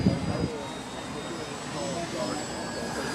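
A battery-powered model World War I airplane drones overhead at a reenactment, its thin electric whine steady and fairly distant beneath background crowd noise and voices.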